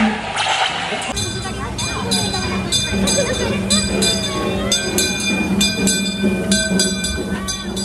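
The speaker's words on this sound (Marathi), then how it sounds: "डिझनीलँडचा एक खास अनुभव म्हणजे डिझनीलँड रेल रोड. ही एक सुंदर विंटेज ट्रेन आहे" A vintage Disneyland Railroad train at the California theme park rolls through with a steady rumble, bell-like metallic tones ringing repeatedly over it, while a voice talks throughout.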